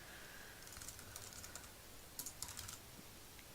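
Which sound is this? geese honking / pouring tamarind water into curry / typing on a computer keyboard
typing on a computer keyboard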